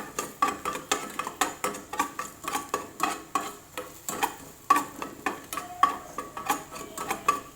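Garlic stirred in a pan with a utensil, cooking toward golden brown, makes quick regular scraping and tapping strokes over a soft sizzle, close and moderately loud.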